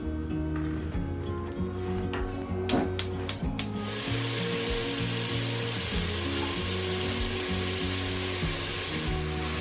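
Vegetables sauté in oil as the base for a venison pot pie sauce, giving a steady, close sizzling hiss that swells in after a few light clinks and runs on evenly over a low hum.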